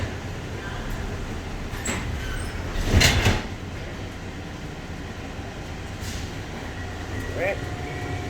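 Interior of an airport tram at Las Vegas airport with a steady low rumble of the car moving, a louder surge of rolling noise midway and a few faint clicks and chimes, with a voice speaking briefly.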